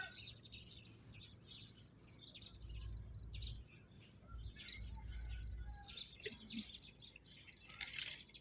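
Birds chirp and call intermittently against a steady outdoor background, with a low rumble underneath and a brighter burst of high chirping near the end.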